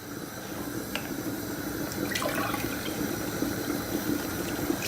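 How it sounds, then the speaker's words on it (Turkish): A second glass of water is poured into a pot of simmering chicken stew, making a steady, close gush of flowing, splashing liquid with a faint bubbling bed underneath for several seconds. "İkinci bardak suyumuzu da verdik."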